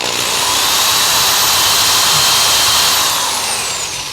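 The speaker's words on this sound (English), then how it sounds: "Carefully crank up our drill. Putting it in this first hole." A power drill whines steadily at high pitch for several seconds, loud and close, its pitch shifting slightly as it bores through the plastic pickguard of a Squier Affinity Stratocaster guitar before winding down.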